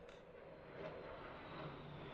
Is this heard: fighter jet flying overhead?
yes